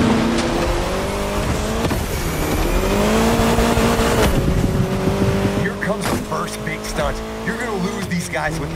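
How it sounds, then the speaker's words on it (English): An Austin Mini Cooper S driving in The Crew Motorfest video game: a loud engine drones and revs with gear changes and tire noise, while people talk over the driving. "So for this first scene, we got you an Austin Mini Cooper S."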